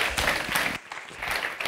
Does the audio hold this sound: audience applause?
yes